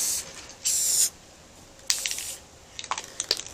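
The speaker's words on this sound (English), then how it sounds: "I'm going to go back to the Rustoleum and go ahead and do a little bit heavier coat this time" Rust-Oleum spray paint hisses from an aerosol can in two short, close bursts as a heavier coat goes on, followed by a few light clicks and rattles.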